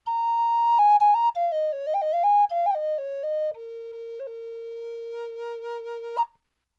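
A Native American flute plays a breathy, pure phrase of stepping notes that settles on a long low held tone, then ends with a quick upward pop, heard clearly with no talking.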